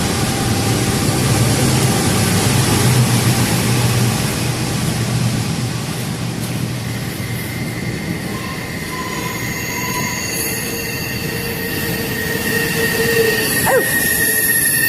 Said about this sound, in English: I'm under a train.